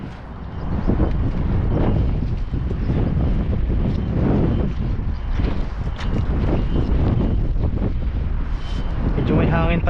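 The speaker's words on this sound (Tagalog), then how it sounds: "Medyo may hangin pala ngayon." Strong wind buffets the microphone outdoors on a muddy riverbank where a fishing net is being thrown, a loud continuous roar with rumbling gusts throughout.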